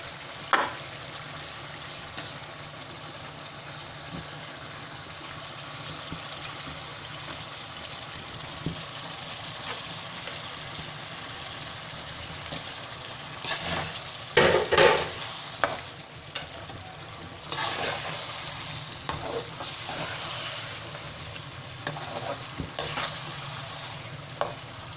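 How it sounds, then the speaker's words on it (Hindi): Meat for aloo gosht sizzles and fries in a pot over a steady, close hiss, while a utensil scrapes and stirs it in irregular bursts that grow busier toward the end. "तो इसमें अब हम अपना गोश्त ऐड करते हैं।"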